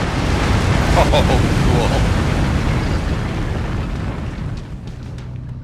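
Fuel tanks exploding on a firing range in Mechwarrior 5: Mercenaries, a loud booming blast that rumbles and slowly fades, with a short exclamation from a voice over it.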